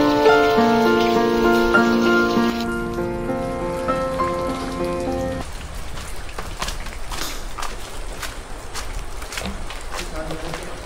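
Rain falls at Gadheshwar Dam on a hillside near Panvel, a steady hiss that takes over once music fades partway through, with a voice talking over it.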